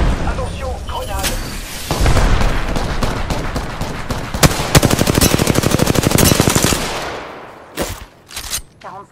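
Rapid automatic gunfire from an Apex Legends match, loud and dense bursts with sharp shots and a few trailing single cracks near the end, layered over game noise.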